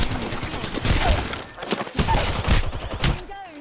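Shotgun blasts ring out in the Apex Legends video game, several heavy booming shots spread unevenly over a few seconds, close and loud amid game noise.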